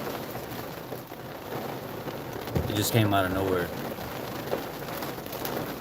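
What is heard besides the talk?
heavy rain falling outside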